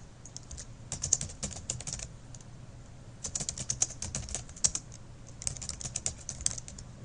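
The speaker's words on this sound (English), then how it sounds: "Simply double click in the box and then type your text." Text is typed on a computer keyboard into a mind-map branch box, with three quick bursts of crisp keystrokes separated by short pauses.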